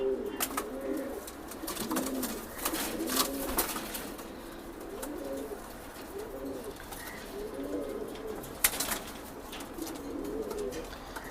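Racing pigeons coo in a steady series of soft, rolling calls close by, with faint wing rustles and light clatter in the background and no talking.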